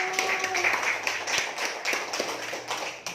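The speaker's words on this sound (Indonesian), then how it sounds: "Oke, tepuk tangan dulu." Children in a classroom clap their hands together in a steady run of close, crisp claps with a roughly regular rhythm, no talk over them.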